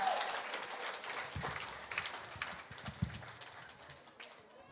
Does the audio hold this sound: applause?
yes